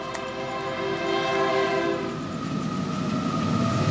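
A train rolls past with a long, loud horn blast up front, then a rising rumble and clatter of railcars close by that keeps building to the end, with no voices.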